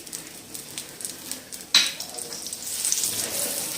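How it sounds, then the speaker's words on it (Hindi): Kamarkas roasts in a small amount of melted ghee, a soft steady sizzle with stirring scrapes and a sharp clink partway through, the frying growing slightly louder toward the end. "कमरकस सिर्फ हल्का सा हमने इसको भूनना है"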